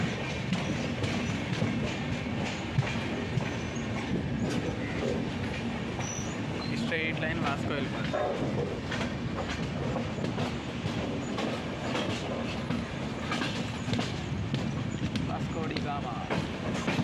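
The Mandovi Express passenger train runs along its tracks with a continuous loud rumble, clickety-clack of wheels and occasional faint squeal, heard from inside the coach.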